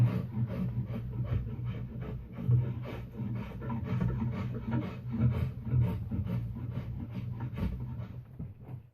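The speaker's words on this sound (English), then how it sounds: "I return to rasping and scraping pretty quickly once it starts lifting and peeling too much" A rasp works steadily along a yew wood bowstave, repeated close, dry scraping strokes in a continuous rhythm with no voices.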